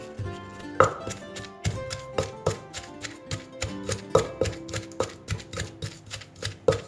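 Chili and shallot pounded with shrimp paste in a Thai mortar for a banana blossom curry with pork: steady, close thuds of the pestle, about three per second, with sharp knocks, no talk.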